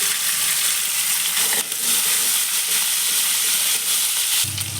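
Chopped green chillies and finely cut ginger fry in a pan with a steady, close sizzle and hiss, broken by brief stirring scrapes.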